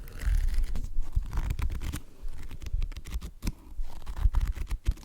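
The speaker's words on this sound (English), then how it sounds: "Page turning." Soft papery rustling and flicking, as pages are turned one after another, close by with some low handling bumps.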